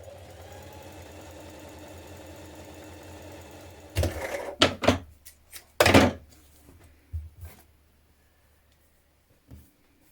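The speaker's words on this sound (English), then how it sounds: "Now ease stitch around the top of your sleeves between the markings." Sewing machine ease stitching around the tops of T-shirt sleeves between markings with a long stitch: a steady low machine hum at first, then several sharp short bursts and clicks that fade to quiet.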